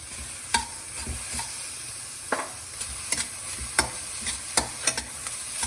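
Boiled, grated beetroot being stirred into a hot pan for a spinach moong dal dosa filling, with a low sizzle under a series of sharp spatula scrapes and taps against the pan.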